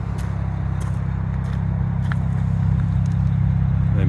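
A 2009 BMW 335i M-Sport DCT straight-six idles steadily and close by, its deep, even burble holding at a constant level with no one talking.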